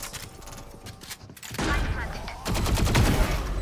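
Shotgun blasts and bursts of gunfire in a multiplayer shooter video game, heavy booming shots that grow louder and denser toward the end, with players talking over the action.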